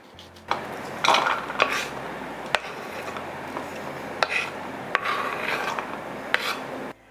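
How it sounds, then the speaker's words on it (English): A knife chops an onion on a board in a quiet kitchen, with a few irregular sharp cuts and short rasping strokes. "I'm going to chop this onion up and put it to the side"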